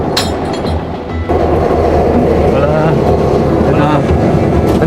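A freight train hauling refined copper from the Chuquicamata mine in Chile rolls past close by, a loud continuous rumble with rhythmic wheel clatter that steps up in level after the first second.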